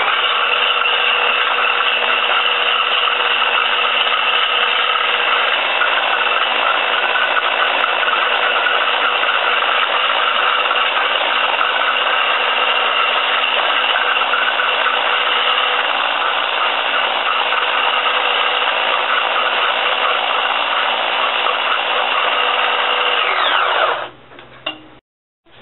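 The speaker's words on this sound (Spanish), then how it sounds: "Acá tengo mis claras. Le echamos una pizca de sal. Y ahora vamos a batir." Electric hand mixer whisking egg whites with a pinch of salt, a steady loud whirring drone that runs unbroken for about 24 seconds before cutting off abruptly.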